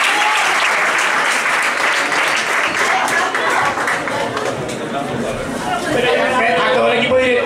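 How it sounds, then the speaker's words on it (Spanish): Loud, sustained applause at a school's Valentine's Day event for Mercedes, the school director, with dense clapping from a large crowd mixed with scattered voices and chatter throughout. "un aplauso grandísimo para Mercedes, la directora"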